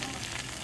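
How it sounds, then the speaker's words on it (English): Chicken sizzles on a hot plate at an old-style Chinese restaurant, a steady close crackling hiss of frying that runs unbroken through a brief moment. "See the steam come out there and you hear the sizzling sound."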